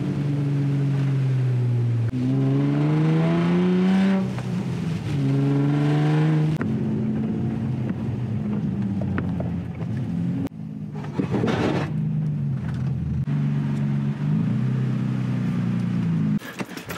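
Engine drone from an Infiniti G35 being driven, rising in pitch through the gears in a steady, loud cabin rumble, with a brief clattering interruption partway before the engine note resumes.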